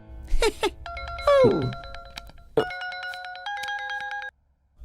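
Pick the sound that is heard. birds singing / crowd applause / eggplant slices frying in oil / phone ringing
phone ringing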